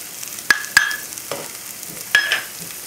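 Zucchini is added to a pan of cooking carrots for wild rice and vegetables, giving a soft sizzle broken by a few sharp metallic clinks and scrapes from stirring, close and distinct.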